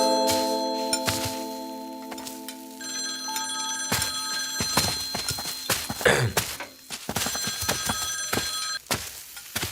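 A telephone bell rings in repeated loud bursts indoors in a drama scene, mixed with clattering and knocking sounds.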